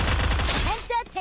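Gunfire from the Garena Free Fire video game, a loud burst of rapid shots packed into the first half, easing off into quieter game sounds.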